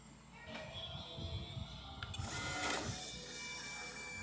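An Instone Mini 3D printer prints PETG despite an overheating problem, its stepper motors whirring and buzzing in shifting tones at low volume, with a brief rise of mechanical noise midway.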